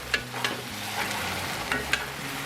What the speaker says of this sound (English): Parboiled rice vermicelli. That's what that is. Let me stir fry that around a bit.